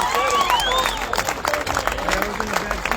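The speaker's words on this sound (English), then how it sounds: "let's give them an applause." Crowd applause at an outdoor San Jose celebration marking the end of a cruising ban, scattered clapping and a few cheers mixed with background voices and whistles, moderately loud.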